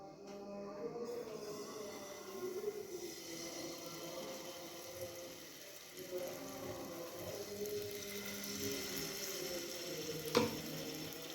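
Vegetable paratha batter sizzles in an oiled frying pan, a steady, dense hiss with faint clattering throughout and a sharp click near the end.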